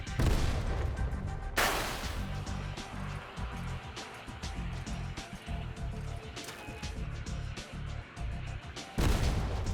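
Pyre rocket launchers in the Crossout vehicle combat game fire in heavy, rapid booming volleys. The thumping bursts repeat rhythmically and loud, with two sharper blasts standing out.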